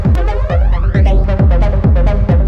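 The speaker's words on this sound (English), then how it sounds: "We got a flanger." A loud dance beat with steady kick drums, washed by a whooshing, jet-like flanger sweep that rises and falls across the music.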